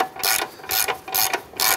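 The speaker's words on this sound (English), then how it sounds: "Let's go ahead and snug our upper ball joint nuts." A socket ratchet clicks in four quick rapid bursts while snugging the upper ball joint nuts on a 2008-2012 Honda Accord, close and crisp with no voices.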